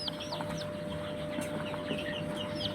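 A young chick gives soft clucks and small peeps while getting a drop of Ranikhet F1 vaccine in its eye, with faint farmyard fowl calling nearby.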